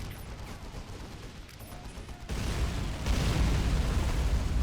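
Heavy gunfire and explosions in a Warhammer 40k space marine battle game roar as a dense, continuous barrage, growing louder and fuller partway through, with no voices.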